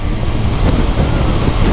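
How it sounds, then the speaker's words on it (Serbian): Strong wind on the Black Sea coast near Durankulak by the Bulgarian-Romanian border, a loud, continuous roar buffeting the microphone, with a surf-like rumble underneath. "Duva snažan vetar, vrlo je sparno"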